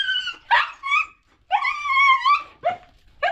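A dog close by gives a series of short barks mixed with higher whimpering yips in an outdoor yard, coming in uneven bursts with brief pauses between them.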